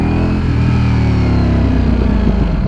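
A 2023 Ducati Streetfighter V4 engine revs hard and close, a loud, sustained rasping roar with rising pitch as the bike accelerates.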